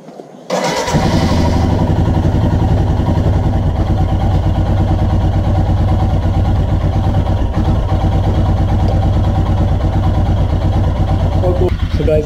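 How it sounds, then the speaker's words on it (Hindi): A Royal Enfield Himalayan motorcycle engine fires up after a short silence, then runs steadily at a loud, close idle with a throbbing single-cylinder beat. "डेढ़ महीने के बाद बाइक स्टार्ट हो गई है"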